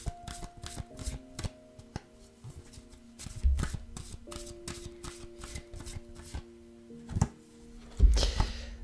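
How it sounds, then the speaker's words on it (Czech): Tarot cards being shuffled in repeated riffling bursts with soft taps and thunks, close by, over a faint steady hum, with a louder flurry at the end. "Tak já si je tu zamíchám a uvidíme, co nám budou vinšovat."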